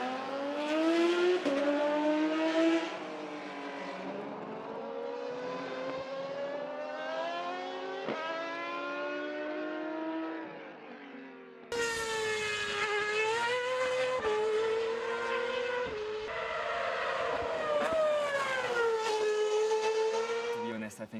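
A Red Bull Formula One car is driven on a track, its high-pitched engine screaming through repeated rising upshifts and falling pitch, loud and close throughout with a brief drop in the middle.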